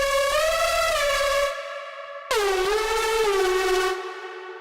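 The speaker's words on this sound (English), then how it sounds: "Right, so that's a monophonic synth." A monophonic synth plays two sustained, bright notes, each gliding smoothly in pitch, with a clean harmonic-rich tone and a short gap between them.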